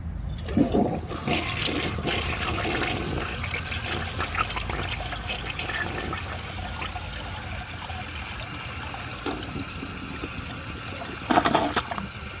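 A 1988 Artesian Atlantis toilet flushes with a steady rush of water that runs the whole time, trickling and gurgling at a moderate level, with a brief louder surge near the end.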